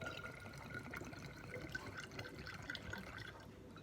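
Liquid pours steadily into a container with a soft, continuous trickling splash, close by and moderately quiet, running without pause throughout.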